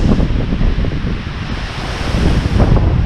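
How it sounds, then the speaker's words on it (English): Strong storm wind gusts at night in the deep south of Alabama, a loud rushing roar buffeting the microphone, swelling and easing continuously with no talk. "There comes another gust."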